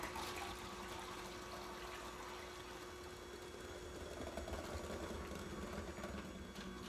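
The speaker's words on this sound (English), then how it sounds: "I like to start the mixer and then pour it in as it's going" A stand mixer whirs steadily at low volume while oil is poured into all-egg-white cake batter, a continuous mechanical hum with a faint liquid trickle and no talk.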